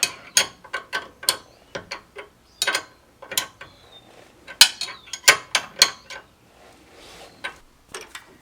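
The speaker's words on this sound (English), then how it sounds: "Tighten this guy up with the 3/4 wrench." Wrench tightening a bolt during a 3.5-inch Metalcloak lift install on a Jeep JL: rapid metallic ratchet clicks in uneven bursts, close and crisp, with short pauses between strokes.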